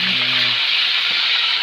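Food fries in hot oil with a steady, dense sizzle that holds at an even level throughout, alone, with a brief low hum at the start.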